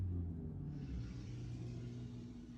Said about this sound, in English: You can hear cars going by.